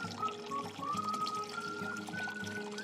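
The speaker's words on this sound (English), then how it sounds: "For boiling water, press down the red lever." Boiling water pours steadily from a Zip HydroTap All In One in a short, continuous stream, with a faint rising tone running beneath the splashing flow.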